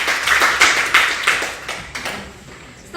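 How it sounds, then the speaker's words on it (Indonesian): Classroom of students clapping for a classmate, a short round of rhythmic claps that tapers off within a few seconds. "Kasih tepuk tangan untuk Senaka."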